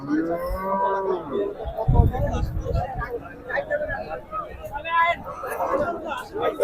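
Cattle moo loudly at a busy Qurbani livestock market at Hazratpur haat, several long lowing calls rising over crowd babble and nearby voices.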